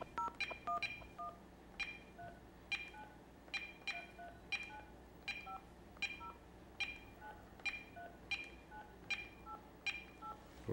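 Touch-tone keypad beeps ring out as a calling card number is dialed on a phone in Tuscany, a quick burst of tones then evenly spaced single beeps, clear and close over faint background noise.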